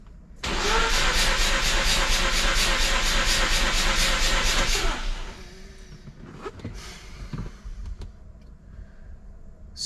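A Mazda RX-8 13B rotary engine cranks over on the starter during a compression test, a loud, even, rapid pulsing for about four seconds that then stops, leaving quiet shop noise behind.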